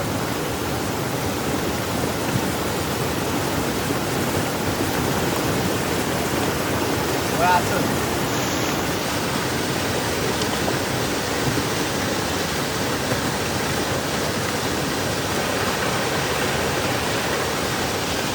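Steady broadband rushing of heavy water, a constant loud roar with no breaks throughout, from a river swollen fast by rain at night, flowing nearby.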